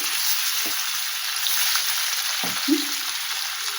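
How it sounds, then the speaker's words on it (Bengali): Fish pieces frying slowly in a little oil, a soft even sizzle close by, broken by a couple of brief utensil knocks and scrapes. "এই মাছগুলো আস্তে আস্তে করে ভেজে নেব"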